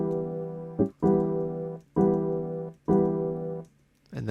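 A pitch-shifted chord sample in a beat repeats as sustained, warm harmonic stabs roughly once a second, each cut by a brief percussive hit.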